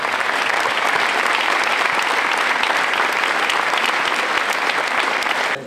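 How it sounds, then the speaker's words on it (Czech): Festival concert audience applauding in Poděbrady, a dense, loud wash of clapping that holds steady throughout and then cuts off abruptly at the end. "prosím, abyste jim zatleskali"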